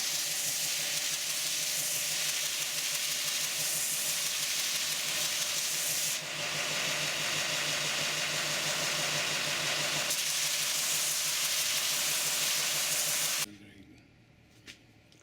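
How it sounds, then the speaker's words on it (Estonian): Continuous loud grinding hiss of a sanding machine working wood, running steadily for most of the time before cutting off near the end. "Lihvin siis teise masina peal põhki."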